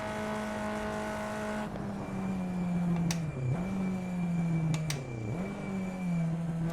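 A race car engine in a racing simulator game whines steadily around the Circuit de Pau, its pitch dipping sharply twice as the revs drop and then climbing again, loud and close.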